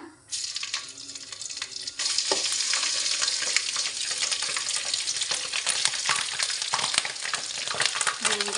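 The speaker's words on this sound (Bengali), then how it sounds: "সরিষার তেল গরম হয়ে আসলে 2টো তেজপাতাকে ছিঁড়ে দিয়েছি। দিয়ে দিচ্ছি আদা" Ginger and torn bay leaves hit hot mustard oil in a pan, bursting into a loud, continuous crackling sizzle that holds steady with faint stirring scrapes and no talk.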